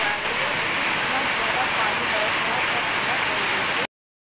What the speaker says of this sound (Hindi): और बारिश होते हुए अभी 1 घंटा हो गया